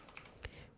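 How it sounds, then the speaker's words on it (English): Quick keystrokes on a computer keyboard while entering a folder name, a few soft, close clicks with one sharper tap, no talking. "so I'm typing here"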